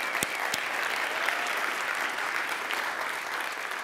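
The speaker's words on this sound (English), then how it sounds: "I'm glad you applauded that" Audience applause fills a keynote hall at a civic tech conference, a steady dense wash of clapping from a large crowd throughout, moderately distant.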